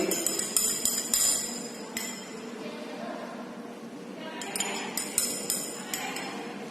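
A spoon clinks against a glass while stirring a solution to mix it, light rhythmic tinkling in bursts at the start and again near the end, with a person talking throughout.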